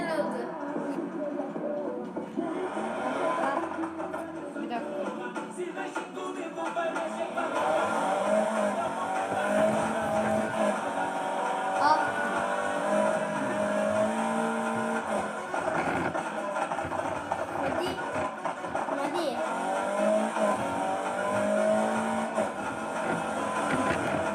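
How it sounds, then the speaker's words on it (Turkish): Modified BMW 3 Series driving with its engine revving and droning steadily, rising and falling as it accelerates, with voices talking over it throughout. "modifiyeli BMW 3'ümüzle e, tur atıyoruz, gazlıyoruz"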